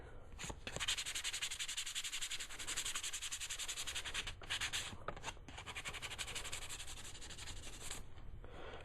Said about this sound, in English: this doesn't need to be sanded, but I'm going to do it anyways, just a little bit, really lightly